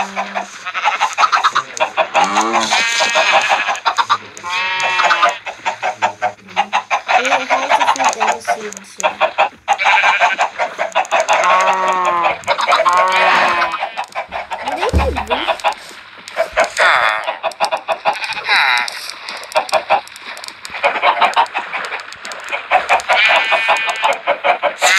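In a cute cartoon world-building video game, chickens cluck repeatedly in bursts that continue through the clip, with background music underneath.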